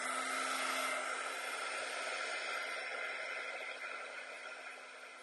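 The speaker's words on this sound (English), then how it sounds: "I'm going to use my poker tool, embossing gun, and I'm going to emboss these" An embossing heat gun blows a steady, loud, hissing whoosh over embossing powder on a craft tag. It runs continuously and eases off slightly toward the end.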